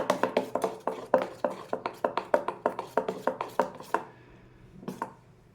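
Pani puri batter being whisked by hand in a bowl: a fast, steady run of sharp taps close by, about three or four strokes a second, then stopping with a couple of stray clicks at the end.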